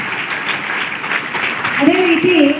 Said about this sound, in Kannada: ಅದಕ್ಕೆ ಅವರಿಗೆ ಜೋರಾಗಿ ಚಪ್ಪಾಳೆ ಹಾಕೋದರ ಮೂಲಕ ಸ್ವಾಗತವನ್ನು